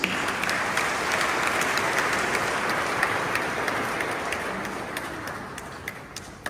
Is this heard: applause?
yes